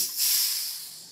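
A pressure cooker releases steam after cooking dal, giving a steady, faint hiss that swells briefly and then slowly fades, with no talking.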